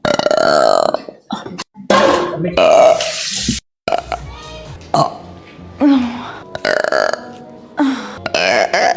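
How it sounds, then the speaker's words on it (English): Repeated loud, close burps from a woman, several drawn-out belches in a row with short gaps between them and no talking. "I burp way too much"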